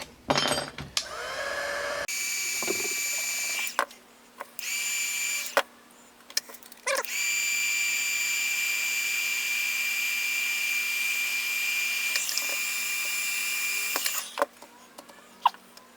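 A heat gun runs in long, steady whirring stretches while shrinking adhesive 3:1 heat shrink tubing over the rewired wiring of a Nerf Stryfe blaster, stopping briefly in between, with clicks and handling noises around it.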